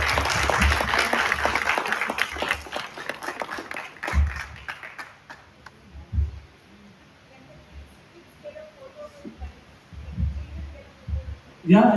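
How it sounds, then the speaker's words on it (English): Round of applause from an audience at a Margazhi celebration in Chennai, dense clapping for about four seconds that quickly tapers off into scattered claps, low thumps and room murmur. "Round of applause for her."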